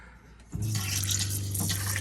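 Shower in a Winnebago Travato Class B RV camper van switching on, water bursting into a strong, steady spray after a quiet moment, close and loud.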